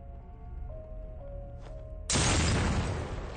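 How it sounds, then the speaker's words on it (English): Bombs exploding in the video game The Evil Within: quieter in-game tones give way to one sudden, loud blast whose roar carries on to the end. "Let's blow up these bombs."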